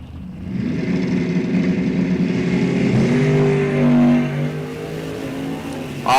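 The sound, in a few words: drag race cars launching, '71 Chevelle and '07 Mustang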